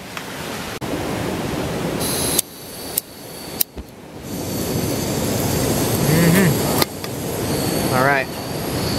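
On a cold morning, a camping stove heats water with a steady, broad roar like rushing air. A few sharp clicks and knocks break through, along with brief faint chirps and voices.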